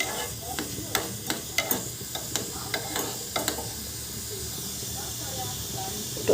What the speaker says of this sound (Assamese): উতলি এতিয়া